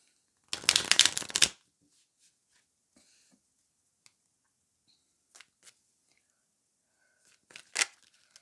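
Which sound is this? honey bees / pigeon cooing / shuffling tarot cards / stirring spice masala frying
shuffling tarot cards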